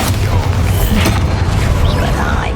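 The Bombarda explosion spell going off in Hogwarts Legacy, a loud booming blast with crashing debris amid ongoing combat noise.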